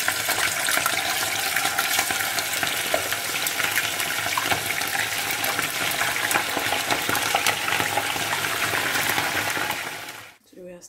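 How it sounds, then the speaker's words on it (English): Meat and fish fry in oil in a pot, giving a steady close crackling sizzle that runs without a break and then cuts off abruptly near the end. "Frying our meat, our fish now."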